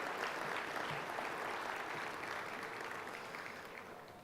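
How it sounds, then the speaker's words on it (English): Sustained applause from a dinner audience at a golf association awards and honors dinner, dense and steady throughout, easing slightly toward the end. "I would like to ask for a round of applause for this evening's sponsor"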